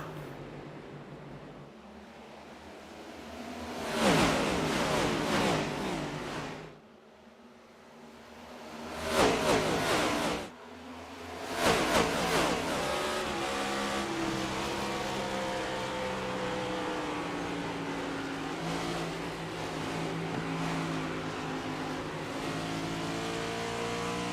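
Race cars roaring off at the green flag at Darlington, engines surging in loud accelerating bursts that pass by, then settle into a continuous distant drone of a racing pack.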